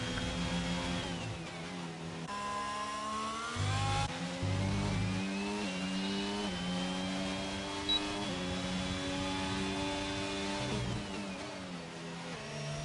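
Racing car engines in the F1 22 video game at the Abu Dhabi Grand Prix, a continuous loud roar of several cars rising and falling in pitch as they rev and shift gears, with no talk.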